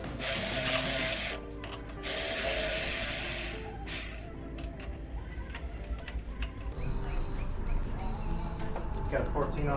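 A ratchet wrench with a 14mm socket and extension works intake bolts on a 1994 Ford 300 inline-six engine, giving quiet bursts of clicking pawl ticks with hissy gaps, while someone talks through them.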